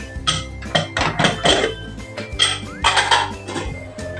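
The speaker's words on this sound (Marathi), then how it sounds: "आता आपण कुकर उघडून बघूया" A pressure cooker holding cooked carrots for gajar halwa is opened in a home kitchen: a run of sharp metallic clanks and clinks of the lid and pot, irregular and close, with brief quiet gaps between.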